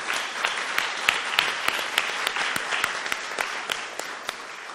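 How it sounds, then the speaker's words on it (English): An audience welcomes a panel at an animation studio event with sustained applause, a dense patter of many hands with individual sharp claps standing out, moderately loud and without speech. "give a warm welcome and a huge round of applause for today's awesome LAIKA panel."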